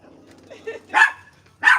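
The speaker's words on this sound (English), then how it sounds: "Kayla, come get your dog. She's barking at everybody." A dog in a public place gives two sharp, loud barks near the end, close by, after softer low whines and murmurs.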